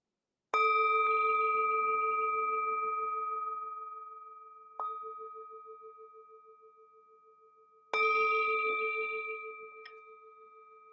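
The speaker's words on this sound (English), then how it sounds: "The sound of this beautiful bell returns us to our true home." A meditation bell is struck twice, several seconds apart, each strike a clear metallic ring with a long, slowly fading sustain; a softer tap sounds between them, and no one speaks.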